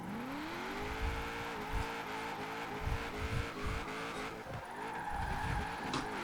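An Impala SS drifts on the e-brake in Forza Horizon 4, its engine droning and rising while the tires squeal in long, wavering screeches, broken by brief bumps and shifts as the slide carries on.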